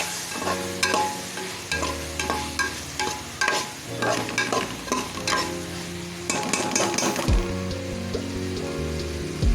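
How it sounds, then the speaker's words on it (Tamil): Brinjal and tomato are sautéed in a hot pan for a fish curry, with a spoon stirring and scraping in repeated strokes over a continuous close sizzle. "இப்போ கத்திரிக்காயை போட்டு வதக்கலாம் அதையும் சேர்த்து நல்லா வதக்கிடணும்"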